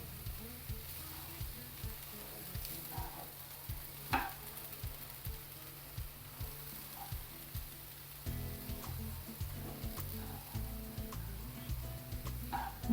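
Sesame seeds dry roast in a pan, with a steady rhythm of spoon scrapes and stirs over a soft, continuous sizzle, close up.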